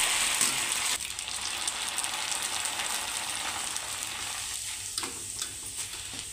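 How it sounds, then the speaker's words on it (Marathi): Maize chivda deep-frying in hot oil, a steady bright hiss and crackle of bubbling oil that runs continuously, close up and fairly loud, with a few sharper pops and clinks near the end and no voices. "आता तेल गरम झालेलं आहे, आता आपण मक्का चिवडा तळून घेणार आहोत"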